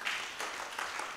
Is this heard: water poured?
no